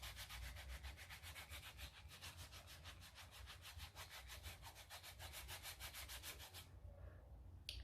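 Coarse side of a foot scrubber rubbed over rough, cracked heels, a steady rapid back-and-forth rasping that runs close and continuous, then stops abruptly near the end.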